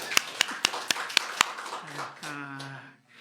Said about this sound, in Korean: 박수 한번 치고 하겠습니다